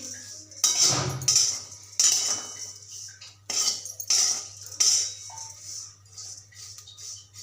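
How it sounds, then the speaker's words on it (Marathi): Dried shrimp tossed in a hot kadhai for a chutney, a metal spoon scraping and clinking against the pan in several sharp bursts with quieter gaps between them. "हे थोडेसे परतवून घेते"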